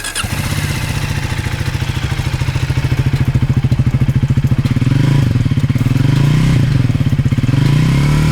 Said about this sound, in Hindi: Let's hear the exhaust.